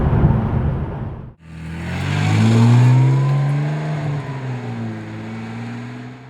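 A Ferrari 612 Scaglietti V12 pulls hard in second gear on a test drive, its engine note rising loud and close for several seconds before easing off into a lower, steady drone.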